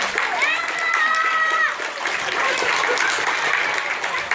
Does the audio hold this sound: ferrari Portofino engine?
no